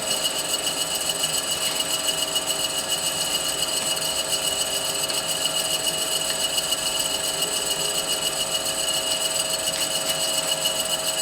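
Reciprocating shaping machine cutting metal in a polytechnic production workshop, a loud continuous mechanical drone with a faint rhythmic knock throughout and no speech.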